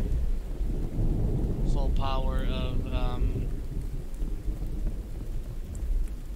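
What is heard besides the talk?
rain and thunder in video game The Infected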